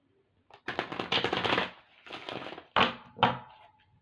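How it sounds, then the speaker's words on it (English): Infinity Oracle tarot cards being shuffled close up, with several bursts of riffling and flicking in quick succession separated by short pauses, with no talking. "We're going to pull some of these Infinity Oracle cards."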